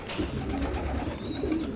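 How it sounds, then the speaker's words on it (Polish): A racing pigeon coos softly in a loft, a low rolling burble lasting the whole moment, close by with a faint hiss of room noise around it. "gołąbek jest po prostu w całości z linii gołębi Darka Maciszewskiego"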